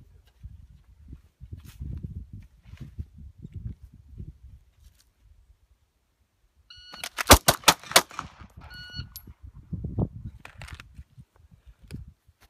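A rapid string of four or five close, sharp gunshots fired during a close retention pistol drill, bracketed by short electronic timer beeps, with quiet movement and faint talk before and after.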